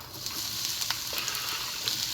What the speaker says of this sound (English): hearing that sizzle when you first put your food in is a good indicator that it's ready